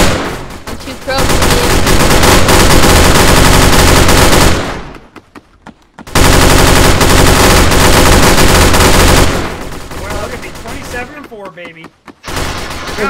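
Loud bursts of rapid automatic gunfire in the Roblox game Compound, two long volleys separated by short pauses, with a player talking in between.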